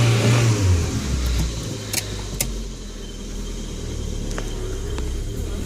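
A 4-cylinder 1.5-litre BMW E30 or E36 engine, on a car with high mileage, revs and rumbles up close, its note rising and settling with a few sharp clicks, steady throughout and without talk.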